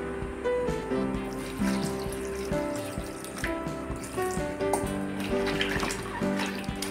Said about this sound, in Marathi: आता हे 2-3 टाइम पाण्यातून स्वच्छ धुवून घेऊया